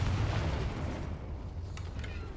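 Confringo blasting curse exploding in the Hogwarts Legacy video game, a dull booming blast that rumbles and fades, followed by a couple of faint brief pops.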